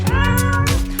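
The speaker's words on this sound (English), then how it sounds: "That's a cat." A cat gives one clear, close meow, then a second shorter call, with no talking.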